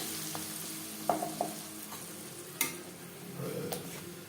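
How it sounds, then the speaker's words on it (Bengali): A paste of onion, tomato and garlic fries in two spoons of refined oil in a kadai, a steady moderate sizzle broken by a few sharp spatula clicks and scrapes. "দিয়ে দিয়েছি দু চামচ রিফাইন্ড অয়েল এবার দিয়ে দেবো পেঁয়াজ টমেটো রসুনের পেস্ট"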